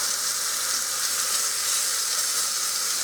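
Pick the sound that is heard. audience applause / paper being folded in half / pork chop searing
pork chop searing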